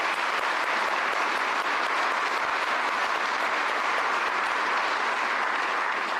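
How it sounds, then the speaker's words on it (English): A large audience gives sustained, dense applause for the finalists at the Burlsworth Trophy presentation, holding steady and loud throughout with no voices over it. "Round of applause for these guys"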